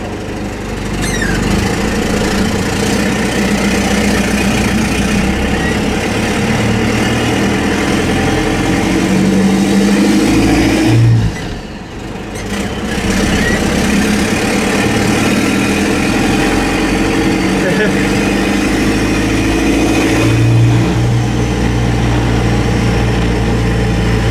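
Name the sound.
Cummins diesel pickup truck engine running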